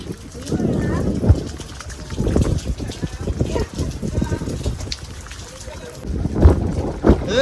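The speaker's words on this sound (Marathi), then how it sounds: "आता लोकांना काढायला आमच्या इथले बाजूचे मुलं होडी घेऊन आले बघा" Water sloshes and churns around a boat moving through village floodwater in Konkan, with several people talking close by throughout.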